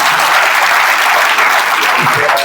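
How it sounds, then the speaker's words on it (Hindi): A crowd at a student protest gives loud, sustained applause for the local administration, dense clapping filling the whole stretch without a break. "उनके लिए जोरदार तालियां बजा दीजिए।"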